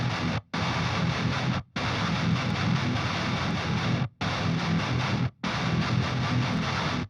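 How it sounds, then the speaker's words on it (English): Heavily distorted djent guitar tone layered with an octave-down low bus, playing a loud, thick breakdown of sustained chugs cut by four short, abrupt silent stops. "I am layering this main guitar tone with what I call the low bus,"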